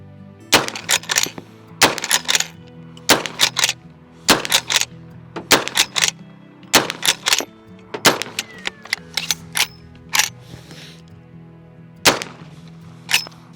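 A Civil War lever action repeating rifle fires a string of sharp, loud shots, roughly one every second, each crack followed by the clack of the lever cycling, with brief gaps between bursts.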